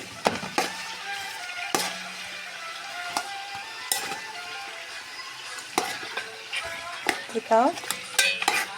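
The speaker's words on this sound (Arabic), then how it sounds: "نحطها ونحمرها شوي، نقلبها بالزيت والسمنة شوي." Meat frying in oil and ghee while a utensil stirs it, with a steady sizzle, scraping and clinks against the pot, and brief bits of speech over it.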